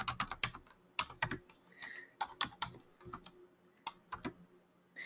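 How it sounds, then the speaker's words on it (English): Brisk, irregular clatter of computer keyboard keys as part numbers are entered at a point-of-sale terminal, sharp close clicks in rapid clusters with short pauses between. "And I'm going to type in a couple of part numbers."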